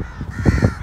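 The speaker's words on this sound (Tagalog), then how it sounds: "Naririnig nyo mga uwak dito?" Crows in a park give a quick pair of harsh, loud caws close by, short and rasping.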